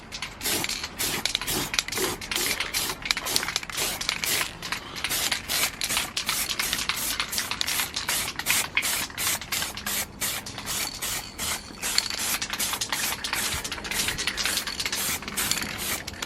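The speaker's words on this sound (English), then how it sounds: "But first attempt of spraying it." A spray can hisses in a long series of short, rapid bursts, repeated steadily with brief gaps between each spray.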